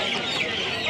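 A chicken at a busy poultry market, a short clucking call close by over a dense crowd murmur.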